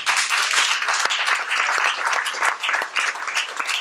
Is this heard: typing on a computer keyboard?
no